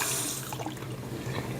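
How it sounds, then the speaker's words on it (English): A waterfall-style bathroom faucet runs into a rounded sink, giving a steady, fairly quiet rush and splash of water with no speech. "If I open this like full blast, it's just gonna, the way the sink is rounded, it's gonna just blast this water out of here."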